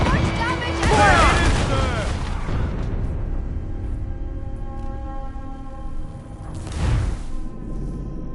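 Broadside cannon fire from sailing ships in a naval battle video game, with booming blasts near the start and again later over a continuous rumble, while excited voices shout over the action.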